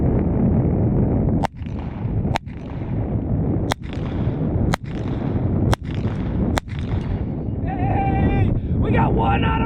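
A Walther P22 pistol fires six sharp, spaced shots outdoors, aimed at a target about 50 yards away. Heavy wind roar fills the gaps between shots, and a voice speaks briefly at the end.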